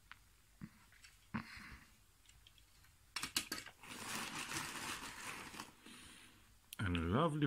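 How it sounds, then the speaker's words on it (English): A plastic zip bag for telescope accessories is pulled open with both hands, giving brief crinkling and snapping bursts close by, followed by a longer stretch of rustling handling. "I have to use both hands to open this zip bag."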